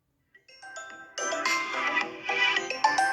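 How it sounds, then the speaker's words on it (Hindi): A ringtone melody plays from the bottom-mounted speaker of a Vivo Y33s phone. It opens with a few soft, sparse notes, then swells into a brighter, fuller tune that grows louder toward the end. "अब मैं आपको इस मोबाइल का स्पीकर चेक करवा देता हूँ।"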